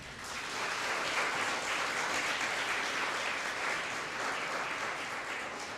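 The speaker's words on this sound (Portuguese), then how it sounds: "Aplauda o Senhor," A church congregation applauds steadily throughout, a dense, sustained clapping from many people with no talk over it.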